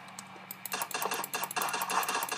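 Keys on a computer keyboard clatter in quick, uneven bursts of clicks during a game of CS:GO, close-up and fairly quiet, with a faint background hum.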